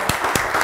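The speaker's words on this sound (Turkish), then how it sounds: "Kocaman alkışlar" Studio audience applause on a Turkish television word-game show, a short burst of dense clapping heard up close with no talk.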